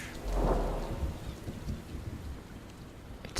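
A thunderclap booms early in a rainstorm in the video game Hue, then fades into a low rumble under steady falling rain, with no voices.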